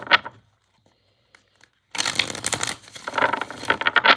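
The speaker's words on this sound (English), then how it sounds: "I'm going to do 2 more shuffles." Tarot cards are riffled and shuffled close up, a brief flutter followed by a quiet gap, then a longer run of rapid papery shuffling.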